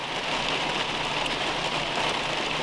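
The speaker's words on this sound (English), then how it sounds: "Rain's starting to pick up even more." Heavy spring rain falls outdoors, a dense, loud, unbroken hiss of drops hitting surfaces.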